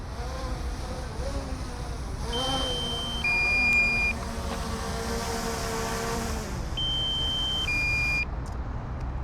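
A drone landing over Catford in London sounds its low-battery warning: two separate bursts of high, two-tone electronic beeps over a steady whirring motor hum.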